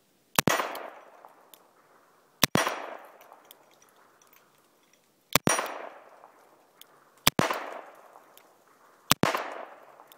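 Five sharp gunshots from a Smith & Wesson Model 67 revolver, fired strong-handed at a 6-inch steel plate 10 yards away, each crack followed by a ringing metallic clang, spaced irregularly about two seconds apart, with no talk.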